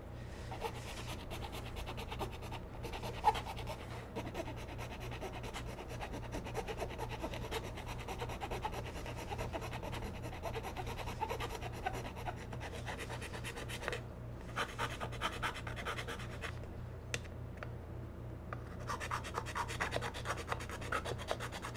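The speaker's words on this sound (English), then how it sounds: "So now I'm using the edge of the file." The edge of a file rasps repeatedly across a plastic 1:350 scale Star Trek starship model, making a quiet, continuous scratching of steady back-and-forth strokes.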